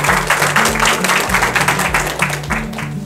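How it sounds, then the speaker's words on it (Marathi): Audience clapping for a contestant at a live outdoor quiz show in Amravati, a steady wash of hand claps under a strong low musical drone that nearly buries it throughout. "एक वेळा दादांसाठी आणि तुमच्यासाठी टाळ्या होत्या जोरदार."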